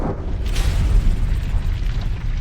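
A massive explosion on the surface of Venus booms as a deep, sustained low rumble that fills the whole stretch with a broad roar, loudest near the start and rolling on without letting up.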